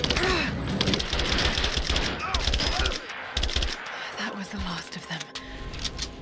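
A firefight in Rise of the Tomb Raider, with dense bursts of automatic gunfire rattling steadily for several seconds and then giving way to scattered shots, while voices shout over the shooting.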